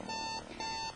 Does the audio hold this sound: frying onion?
no